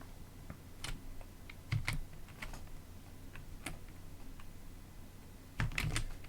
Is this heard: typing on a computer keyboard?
yes